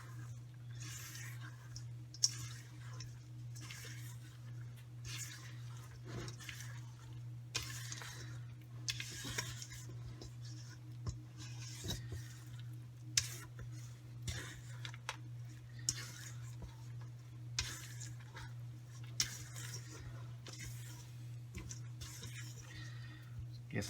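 Chocolate chip banana bread batter is mixed by hand in a bowl, with soft, irregular clicks and scrapes from the stirring over a quiet, steady hum.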